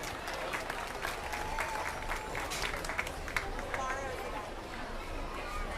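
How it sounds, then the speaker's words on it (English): A crowd at a youth swine showing event claps steadily in sustained applause, with faint voices and chatter mixed in underneath. "Let's give them all one more great big round of applause."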